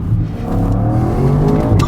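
A 2020 Audi RS car engine revving hard in first gear, a loud, close, rising rasp with strong low harmonics heard from inside the cabin during a brief, intense pull.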